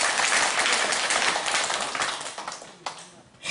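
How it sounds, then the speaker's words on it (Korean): A church congregation at a Sunday service claps together in a dense burst of applause that is loud at first and then thins and fades toward the end. "박수 한번 쳐요"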